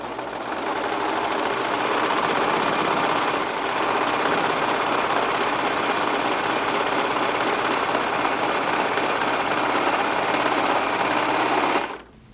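A sewing machine runs in one loud, continuous stretch of rapid stitching while joining the seams of a pair of pants, stopping abruptly at the end with no talk.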